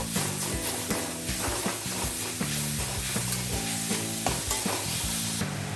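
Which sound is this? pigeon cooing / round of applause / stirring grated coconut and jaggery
stirring grated coconut and jaggery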